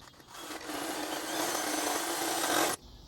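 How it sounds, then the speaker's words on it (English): A power drill bores a hole near the wheel knuckle of a show truck beside the dust protector, a loud, steady grinding whir that holds for nearly three seconds before stopping abruptly. "grab my drill and drill bit"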